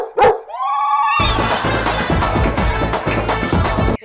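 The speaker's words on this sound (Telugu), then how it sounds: "ఇందాక నుంచి కుక్కలు ఆడుతున్నా వినిపించట్లేదా?" A dog barks and whines in a Telugu comedy skit: a rising tonal whimper, then steady loud barking and noisy background for the rest of the moment.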